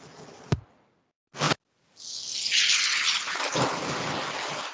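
Heavy rain pours down in a loud, steady rush that swells after two short bursts of noise, with a rumbling undertone beneath it.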